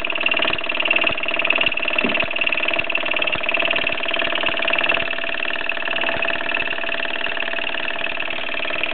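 A 1967 Mamod SE1 toy steam engine chugs steadily with a fast, even rhythm, driving a Mamod toy workshop whose machinery hums and whirs along with it.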